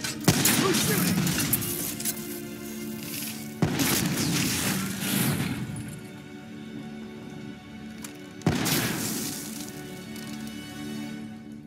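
Gunfire in the video game Chronicle of War 2070, set in Singapore: bursts of shots and booming impacts in three loud waves, each hitting hard and then trailing off into crackling debris and rumble.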